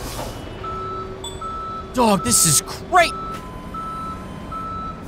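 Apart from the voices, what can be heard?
tow truck reversing beeps in the video game Police Simulator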